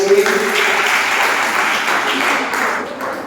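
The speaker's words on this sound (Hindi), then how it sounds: "बहुत सुंदर जोरदार ताली बजाइए" An audience claps steadily during a Jain religious discourse in Bhopal, honouring Shri Champapuri; the applause is dense and sustained throughout, with a faint voice near the start before it tapers slightly at the end.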